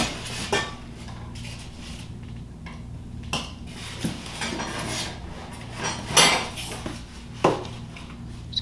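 Metal bowl, lid and attachments of a new kitchen machine handled during unboxing, giving scattered clinks and clatters of metal and hard parts at close range, with quiet gaps between the knocks.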